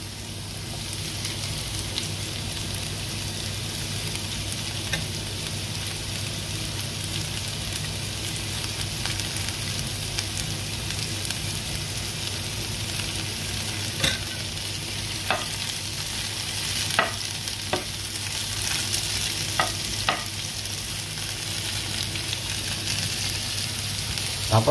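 Chopped tomatoes sauté in a hot pan with onions for ginataang tilapia, giving a steady sizzle and fry throughout. A few faint scraping stirs of a utensil sound through it, with no talking.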